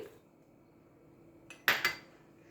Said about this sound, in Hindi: अब इसको मैं मिक्सिंग जार में ट्रांसफर कर दूंगी।